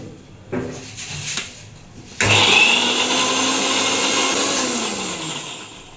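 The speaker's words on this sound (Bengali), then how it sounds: "মশলার মধ্যে টমেটো কুচিটা দিয়ে দেবো, দিয়ে ভালো করে পেস্ট করে নেব।" Kitchen blender grinding spices and chopped tomato into a paste: a few knocks and short bursts, then a loud steady motor whir for several seconds that gradually slows.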